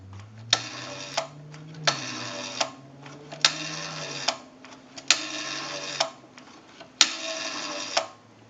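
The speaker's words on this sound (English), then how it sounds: "We have a nice smooth return on our rotary dial now." The rotary dial on an Automatic Electric three-slot payphone under repair spins back again and again. Five separate whirring returns, each ending in a sharp click, come close up with short quiet gaps between them.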